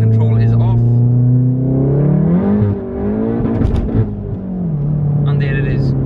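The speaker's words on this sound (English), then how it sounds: "And there it is. Nothing but wheel spin." A front-wheel-drive MK7 VW Golf R accelerating hard in second gear with traction control off. The loud, close engine note climbs in pitch, dips, then climbs again.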